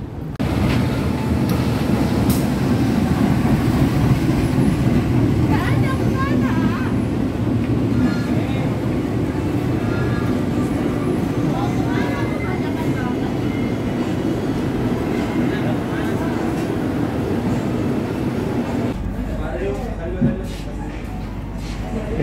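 Argo Cheribon passenger train at Cirebon station, a steady loud rumble of the departing train with faint rail clatter throughout, ending in a quieter stretch with a few brief higher sounds.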